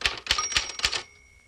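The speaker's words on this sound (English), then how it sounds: "At the end of a line, the signal to return the carriage will be the sound of a bell." A typewriter from a 1960 touch-typing instructional record gives four sharp, evenly spaced key strikes, close and crisp, while a faint thin bell-like ring lingers beneath and carries on after the typing stops.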